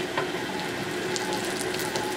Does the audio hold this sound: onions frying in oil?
yes